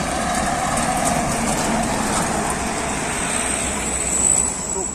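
A Hino 500 truck rolls past on a roadway, a steady broadband engine and road rumble that holds level throughout and swells slightly near the end, with traffic noise in the background.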